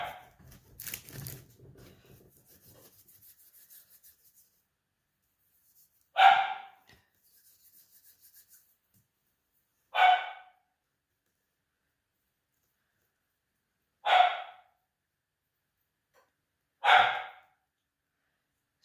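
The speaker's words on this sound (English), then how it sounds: "my dog's not very happy that I'm out of sight" A dog barks in sharp single barks spaced several seconds apart, four clear barks from a short distance, after some faint breathing or rustling at the start in an otherwise quiet room.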